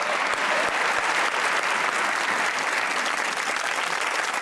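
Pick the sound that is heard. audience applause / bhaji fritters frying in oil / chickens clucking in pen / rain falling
audience applause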